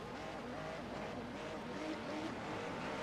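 Racing car engine revving steadily in the pit lane during a simulated 12 Hours of Daytona endurance race, a continuous loud drone with shifting pitch and no talk.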